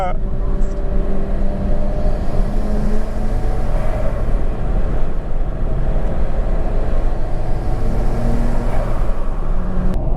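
Nissan Skyline R34 GT-R engine running steadily at idle, a continuous low rumble heard close and loud throughout, with people talking over it.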